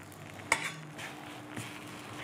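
Bread frying in butter in a pan, a faint steady sizzle with a couple of soft clinks from a utensil as it is flipped.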